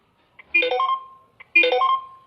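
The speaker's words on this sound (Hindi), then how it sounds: "अरे किया कर फोन आवत बाटे हो।" A telephone rings in a cartoon, with two short electronic ring bursts about a second apart, each preceded by a faint click, clear against silence.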